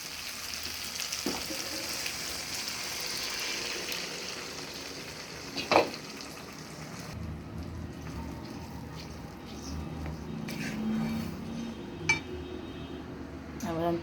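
Boiled dal poured into sizzling fried spice masala in a pan while making kolai dal, a clattering splash followed by steady bubbling sizzle and occasional utensil clinks.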